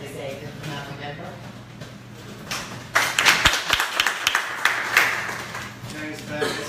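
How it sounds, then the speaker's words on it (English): A small group claps for each other, a short burst of sharp, close handclaps starting midway and fading within a few seconds, with talk around it. "Let's clap for each other."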